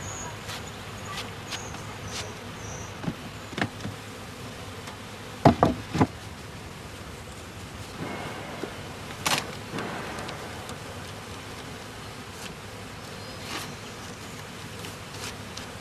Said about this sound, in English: when the last bees have been brushed off the last honeycombs